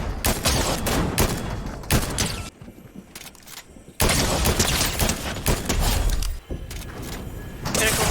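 Bursts of video game gunfire crackle in rapid fusillades, loud and close, breaking off for a moment before resuming.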